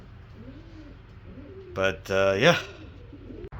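Racing pigeons coo at the loft in a short burst of throaty calls near the middle, over a quiet outdoor background, with someone speaking briefly.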